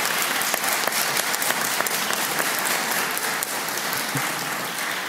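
Sustained applause from a large audience greets graduates at a fine art conferring ceremony, a dense, steady wash of clapping that continues evenly throughout.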